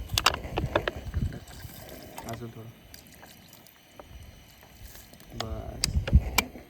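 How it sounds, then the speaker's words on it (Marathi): Water is poured into a cooking pot of freshly caught crabs at an outdoor hilltop meal during the first rains, a steady liquid pour under nearby conversation in Marathi. "आता आपण थोडंसं पाणी टाकू जेणेकरून आपले किरवे शिजतील."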